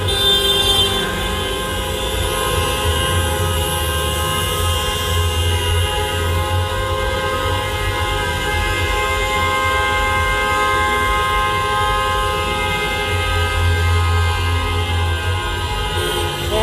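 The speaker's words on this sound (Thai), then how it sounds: "เป็นเสียงแตรของมวลชนที่มาร่วมกิจกรรม" Car horns blare continuously from many vehicles at once at a protest at Ratchaprasong intersection in Bangkok, a dense sustained honking din with traffic noise underneath, loud and unbroken.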